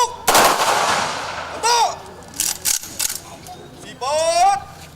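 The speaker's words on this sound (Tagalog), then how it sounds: "21 gun salute." Rifle volleys ring out for a 21 gun salute at a soldier's funeral, several sharp, loud cracks in quick succession with gaps between, while voices call out and speak around them.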